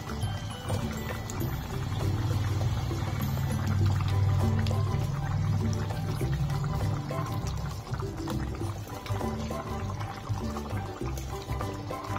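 Water poured into a pan of fried potatoes and spices, a steady gushing pour that fills the first few seconds, then settles into a lower bubbling and simmering hiss.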